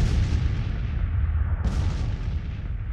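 In a Civil War strategy game battle, 12-pounder Napoleon cannons fire during an artillery duel: a deep rolling boom fading out, then a second sharp report cracking in about midway, loud and resonant with no talk.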